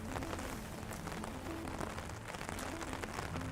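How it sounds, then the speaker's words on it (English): Artificial rain falls inside the Biosphere 2 rainforest, a dense, even hiss of drops on foliage and surfaces that continues steadily and softly throughout with no voices. "we can control every variable, from temperature to carbon dioxide to even the rain that's starting to come down"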